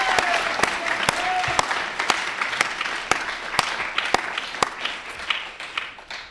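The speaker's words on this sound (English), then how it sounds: "Let's give a big round of applause for the Carbon Removal Challenge 2023 finalists" Audience applause for the Carbon Removal Challenge 2023 finalists at a showcase, a dense sustained clapping crowd with a few sharp louder claps standing out, fading slightly toward the end.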